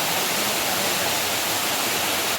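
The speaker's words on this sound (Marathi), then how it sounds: "धबधबा बघू शकताय." A waterfall near a Konkan crab-catching spot roars steadily and close, a dense unbroken rush of falling water filling the short stretch with no voices over it.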